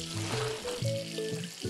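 Shower water hisses and sprays in the Dr. Panda Swimming Pool kids' game, a short, steady sizzling rush, close and moderately loud, with no talking.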